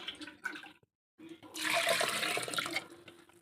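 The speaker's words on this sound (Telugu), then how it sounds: "ఇంకా కొంచెం వాటర్ పోసుకేసుకొని" A brief voice, a short pause, then water splashes steadily into a pot of drumstick and raw mango dal, pouring for a couple of seconds close by.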